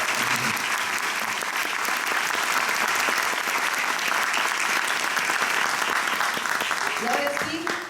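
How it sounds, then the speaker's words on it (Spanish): A crowd at a corporate dialogue event gives warm applause to a departing speaker: loud, dense, sustained clapping fills the whole stretch and fades at the very end, with a brief voice near the close. "Lo despedimos con un cálido aplauso."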